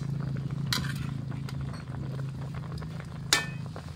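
An adobong pork chop keeps up a steady sizzle in a hot pan as egg goes in, with two sharp utensil clinks breaking through the continuous frying hiss.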